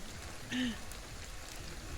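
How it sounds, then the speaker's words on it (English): Steady, soft rain falling in the video game Ghostwire: Tokyo, a continuous hiss across the whole stretch with a brief tone partway through. "now it is raining."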